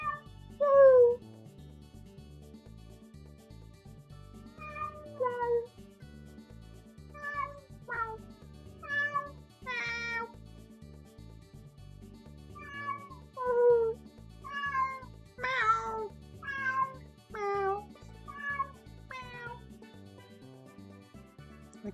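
Domestic cat meowing repeatedly up close, a run of a dozen or more short rising and falling mews at an uneven pace, loud and clear with no talking.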